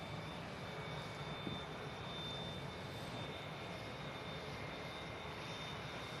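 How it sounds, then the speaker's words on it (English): An Airbus A321 with IAE engines at Manchester Airport gives a steady, continuous roar with a thin high whine, distant and unbroken throughout. "It's a classic A321 with the IAE engines. So that's going to be an awesome sound. They have a real scream to them."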